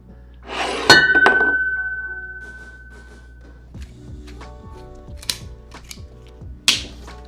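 Glass clinks sharply as a whiskey bottle of Weller Special Reserve meets a glass, followed by a brief whiskey pour, then several lighter taps and clinks at close range.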